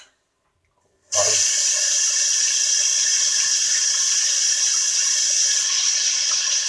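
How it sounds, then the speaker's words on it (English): Tap water runs steadily and loudly over a pork loin being rinsed for a Crock-Pot recipe, starting abruptly after a second of silence and continuing as an unbroken splashing stream. "Rinse this thing off."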